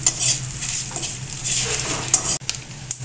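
Cumin seeds and a bay leaf sizzle and crackle in hot oil in a pan, a loud steady frying hiss with occasional stirring scrapes and clinks of a utensil.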